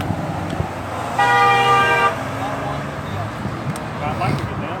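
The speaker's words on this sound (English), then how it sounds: "every so often the people driving by start going crazy, honking their horns and stuff" Passing drivers honk a car horn in one loud, sustained blast of about a second amid roadside traffic noise, with background voices around it.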